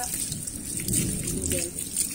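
Rain falls during a purple sweet potato harvest outdoors, a steady close hiss and patter with a faint low rumble underneath.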